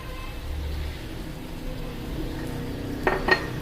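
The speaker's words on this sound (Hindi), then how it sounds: "अब ये देखें बंद गोभी डाल रही हूँ मैं" Finely chopped cabbage tipped into a pan and cooked, a low frying hiss under faint clinks of a utensil against the pan, ending with two sharp metallic scrapes.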